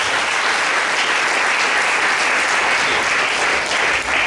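A church congregation claps and cheers in praise of the Lord during a Sunday worship service, a dense, steady wall of applause sustained at full loudness throughout without a pause.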